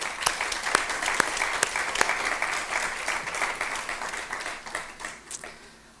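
An audience at a university teaching event applauds: dense, crisp hand claps with sharp individual cracks, fairly close, sustained for several seconds before gradually thinning out and fading.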